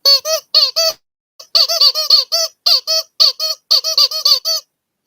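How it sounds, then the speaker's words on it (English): Rubber squeaky can-shaped pet toy from Zippy Paws being squeezed, giving bursts of sharp, high-pitched squeaks, several quick squeaks per burst, close and loud with short gaps between. "from Zippy Paws, we've got a squeaky can."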